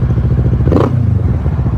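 A 2020 Kawasaki Z650 ABS with a fuel-injected engine and an aftermarket Yoshimura exhaust idles close by, giving a loud, steady, pulsing burble with a brief rev swell in the middle and a slight clatter.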